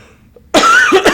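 A person gives a couple of loud, close, harsh coughs from an allergy tickle in the throat, after a near-silent pause and with no talk.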